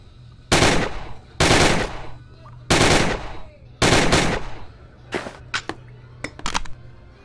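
Thompson submachine gun fired in the VR game Gun Club VR: four loud sustained bursts of rapid automatic fire, then several short sharp shots and quick double bursts, close and without talk.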